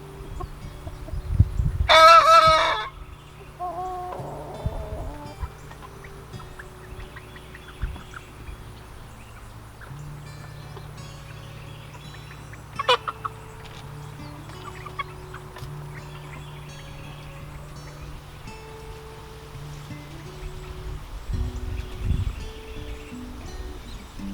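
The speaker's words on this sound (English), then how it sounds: "Hopefully at least one of these guys is a good rooster that we can keep." A rooster crows loudly nearby once, then chickens cluck and murmur softly in the background with occasional rustling.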